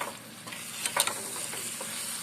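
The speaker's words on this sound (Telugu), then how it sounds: "బాగా వేగాలి పచ్చడి" Ginger pickle frying in a pan, a quiet steady sizzle with a few short stirring scrapes and clinks near the middle, heard up close without talking.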